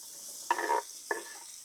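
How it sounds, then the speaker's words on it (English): Potatoes dumped onto a hot Blackstone griddle give two short bursts of sizzling, a longer one followed by a briefer one, fairly faint against a quiet hissing background. "we're just going to dump them straight on this griddle"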